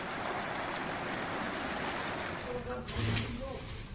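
Floodwater from an overflowing river running through a flooded residential neighbourhood in Bandar Lampung at night, a continuous rushing wash with a brief splashing surge near the end.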